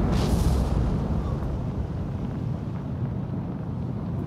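An explosive shell slams into a warship in a naval combat game: a heavy blast at the start that trails into a long, low rumbling roar, loud and dense throughout.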